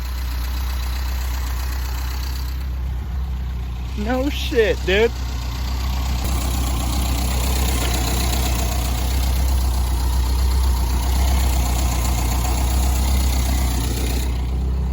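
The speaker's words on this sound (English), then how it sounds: "It's idling on its own." An abandoned Renault's engine idles steadily with a low, continuous rumble after nine years unused, while someone speaks briefly over it near the start.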